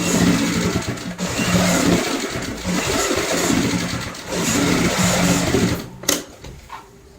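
Sewing machine running steadily while stitching a double seam on a homemade door mat, a loud continuous mechanical whir with brief slowdowns and a sharp stop near the end.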